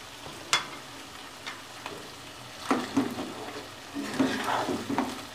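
Bheja (goat brain) frying in desi ghee in a pan, a steady soft sizzle broken by several sharp clinks and scraping stirs, the busiest stretch near the end.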